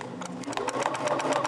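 A sewing machine stitches a quilt design, running with a steady fast mechanical whir and rapid needle chatter, close and continuous throughout.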